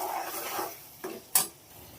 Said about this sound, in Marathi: आता मी मसाले काढलेले आहेत ते टाकते, हे हलवून घेते चांगलं